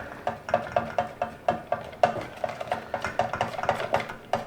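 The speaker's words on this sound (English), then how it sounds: "Stir them through." A whisk or spoon working egg yolks into a blue cheese soufflé mixture in a bowl, a quick regular run of light clinks and scrapes, close and fairly quiet, no speech.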